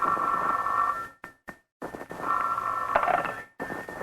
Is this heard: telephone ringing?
yes